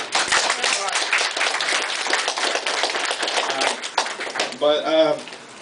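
Audience applause at a senior graduation recognition ceremony honoring a barbershop, a steady wash of hand claps lasting several seconds with some voices and cheering mixed in near the end.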